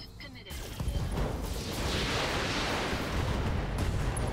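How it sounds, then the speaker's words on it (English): Mech weapons in a video game fire a sustained barrage at an enemy mech, a heavy rumbling roar with booming bursts that builds after a brief quiet start and holds loud to the end. "So let's fire straight on this guy."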